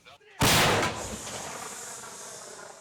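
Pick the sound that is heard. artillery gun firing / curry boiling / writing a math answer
artillery gun firing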